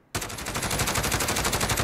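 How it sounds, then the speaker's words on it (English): Sustained automatic fire from a SIG SG 553 Commando rifle in Call of Duty Modern Warfare, a dense, loud, rapid burst of roughly thirty rounds running continuously after a brief silent start, with no voices. "Try and get around 30 rounds downrange with this and control the recoil."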